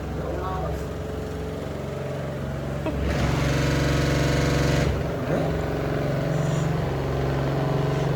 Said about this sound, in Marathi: स्पिन होत आहेत ना मग ते कपडे